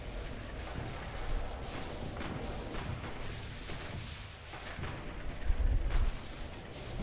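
Artillery shells landing nearby in the World War II shooter Red Orchestra 2, dull rumbling booms over a constant noisy battlefield wash, with a heavier low thud near the end.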